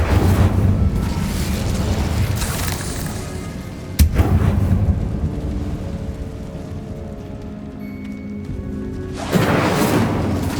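A fiery Incendio spell cast in Hogwarts Legacy, a loud roaring whoosh and rumble with a sharp crack near the middle and another burst at the end, dense and close with no talking.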